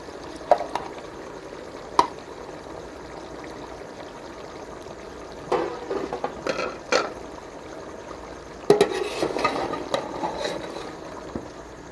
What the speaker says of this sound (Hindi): और इसको अच्छी तरह मिक्स कर लेंगे।